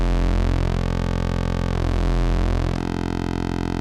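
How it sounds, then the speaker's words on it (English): A synthesizer oscillator's pulse wave drones loudly and steadily while its pulse width sweeps, giving a buzzy, shifting, phasing tone that changes character partway through. "We're going to start with the pulse wave, sometimes called the square wave."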